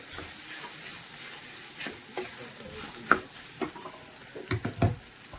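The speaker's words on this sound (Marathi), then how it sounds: "आता आपल्याला भेंडी घालायची आहे मस्त अशी परतून घ्यायची आहे" Okra stir-fries in a pan with a soft continuous sizzle, broken by scattered spatula scrapes and knocks that grow louder and more frequent toward the end.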